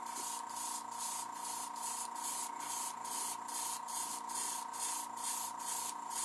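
Airbrush spraying paint onto a Mr Freeze figure, giving a steady continuous hiss that pulses in short regular bursts as the brush keeps moving, close and alone with no talk.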